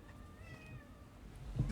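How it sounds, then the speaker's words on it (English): A cat meows briefly at low level, a short soft call against faint background hum with no talking. "It's a kitty."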